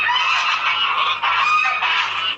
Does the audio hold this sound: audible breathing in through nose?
no